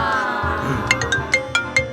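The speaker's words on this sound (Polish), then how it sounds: "Telefon." A phone ringtone in a kids' hide-and-seek animation set around an ice cream shop plays a bright, repeating chime pattern of short notes, loud and clear, over a soft musical background.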